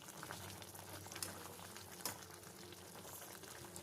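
A pot of drumsticks with ground coconut masala added simmers softly, with a faint, steady bubbling patter and an occasional small pop.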